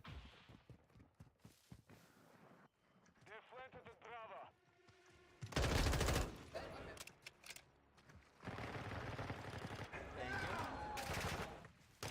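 M4 rifle firing 5.56 rounds in the video game Call of Duty: Modern Warfare II, with loud rapid bursts of gunfire in two stretches and someone talking between and over them.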